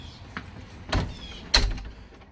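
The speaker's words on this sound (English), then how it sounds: "So as I walk out the door, I will actually" A door opens as a person walks out, giving a couple of close, fairly loud thuds and clunks over a quiet room background, with no talking.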